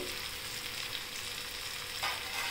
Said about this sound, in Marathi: छान परतून घेऊ परत.